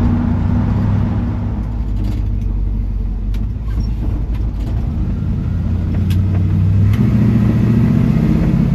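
A 1970 Chevrolet C10 pickup's engine rumbles loudly and steadily from inside the cab, a deep throaty dual-exhaust drone that swells slightly as it revs.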